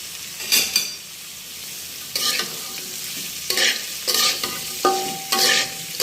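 Bitter gourd stir-fries in a pan with a little salt; a spatula scrapes and tosses it in several distinct strokes over a steady, soft sizzle, close by and without speech.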